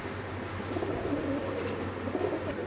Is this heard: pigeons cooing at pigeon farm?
yes